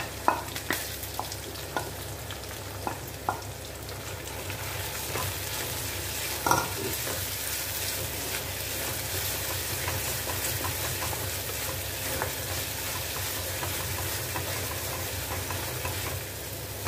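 Okra cooks in a pan with ground masala paste, producing a continuous sizzle while a spoon stirs and scrapes, leaving a few sharp clicks scattered across the stretch. No speech is heard.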